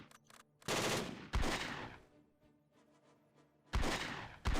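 Several loud bursts of automatic gunfire from the video game Close Combat 3, set in a Russian advance across snow, separated by quieter stretches with faint distant pops.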